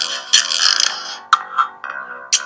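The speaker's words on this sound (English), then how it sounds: "What you're hearing is a reverse reverb" A processed sound effect where each tone swells up from nothing and cuts off sharply, repeating several times, a backwards-reverb whoosh leading into each hit.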